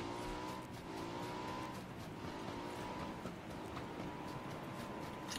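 A vehicle drives in the battle royale game PUBG, with a faint, continuous engine drone and rolling tire noise holding steady throughout.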